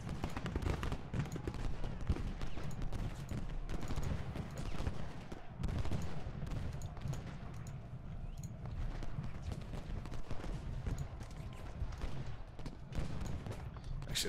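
Musket volleys and cannon fire crackle continuously in an Ultimate General: Gettysburg Civil War battle, a dense, fairly faint barrage of overlapping shots with no clear breaks.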